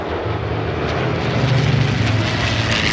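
A Yakovlev fighter plane of the kind flown by the Normandie-Niemen unit flies past at an air show at La Ferté-Alais, its engine a steady, loud drone with a low throbbing hum that swells slightly midway.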